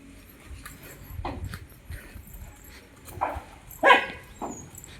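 A dog gives a few short, scattered barks and yips, one sharper bark standing out, against quiet background rustling and scuffing.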